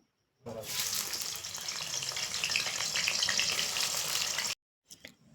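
Oil heating in a kadai (wok) over a stove, readied for frying meat for biryani, gives a steady, fairly loud sizzle for about four seconds, then cuts off into near silence with a couple of brief knocks.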